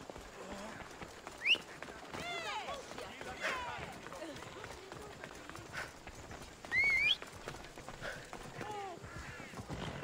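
A horse runs in Assassin's Creed Odyssey, a faint galloping clip-clop under someone talking, with brief sharp game sounds and a short louder burst near the end.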